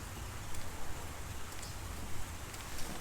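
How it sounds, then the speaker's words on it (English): Rain falls outdoors and grows heavier during a bonsai repotting session in a garden, a faint, steady hiss with scattered droplet ticks and no speech. "The rain's getting a bit heavier."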